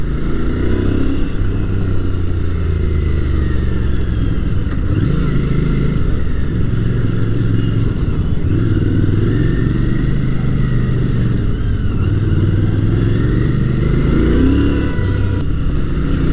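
A Royal Enfield Interceptor Bear 650, a 650cc motorcycle, is ridden with a loud, close, steady engine drone and rumble, rising and falling slightly with throttle, over strong wind noise.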